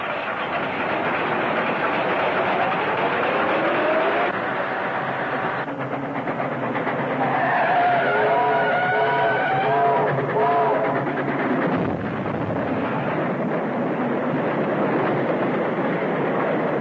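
A train rumbles past a railroad crossing in an old 1934 serial film, a steady loud roar with rolling clatter of wheels throughout, close and continuous with no break.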